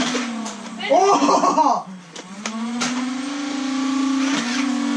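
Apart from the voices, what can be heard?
Nerf blaster flywheel revving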